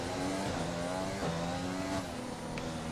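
Formula 1 car racing through a corner at the Vietnam Grand Prix in an F1 My Team video game, its front wing damaged; a steady high engine whine holds throughout with brief dips and a short tire squeal.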